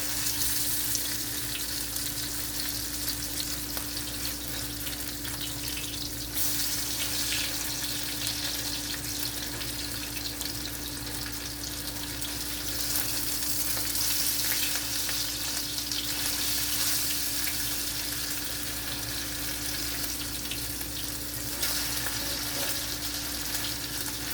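Salisbury steak patties frying in hot popping grease, a steady close sizzle with crackles running the whole way through, with no one talking.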